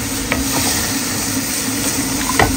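Mixed vegetables tossed into a pan with ginger-garlic fried chicken for a quick Bangladeshi-style Chinese dish, a loud continuous sizzle with occasional scrapes and spatters throughout.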